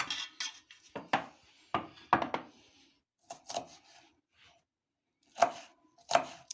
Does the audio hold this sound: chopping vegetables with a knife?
yes